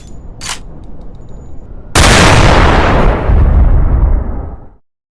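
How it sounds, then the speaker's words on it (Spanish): A single sharp gunshot cracks out in the distance during a tense military patrol, followed by a long, loud rumbling echo that rolls on for nearly three seconds before cutting off; a faint chirp precedes it. "Se escucha un disparo a la distancia."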